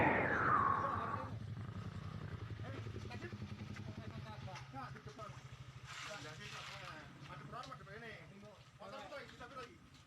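Motorcycles pull up at Pos 1 on the Karangrejo trail of Mount Kelud in Blitar, one engine revving loudly at first, then a low idling rumble that continues beneath someone talking.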